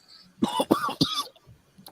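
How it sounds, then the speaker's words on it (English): Three quick, dry coughs in a row, close and moderately loud, with a faint throat noise trailing after. "Got a bit of a dry cough."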